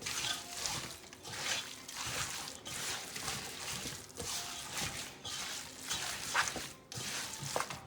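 Hyderabadi chicken dum biryani ingredients with salt added are stirred in a pot, making a continuous, moderately loud scraping and shuffling of wet mixture with soft rhythmic swells and no voices.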